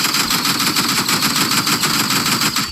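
The default primary weapon in the Roblox game Rivals fires in rapid automatic bursts, a loud continuous rattling stream of shots with a steady pulsing rhythm throughout.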